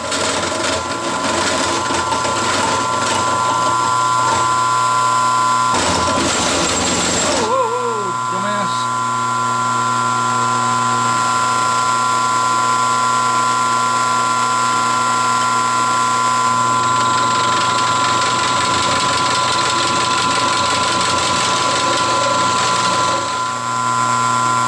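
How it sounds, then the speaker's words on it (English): An end mill on a milling machine cuts metal for a lower control arm, a steady loud mechanical whine and grinding hum with a brief shift midway, while someone talks over the machine. "I can put the end mill down and come in, cut over, and back out"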